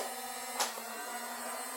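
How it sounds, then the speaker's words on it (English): A Nerf Hailfire toy blaster's motor whirring steadily with a faint high whine, fairly quiet and close, broken by one short sharp click or snap partway through. "the Nerf Hailfire. It has a really loud motor"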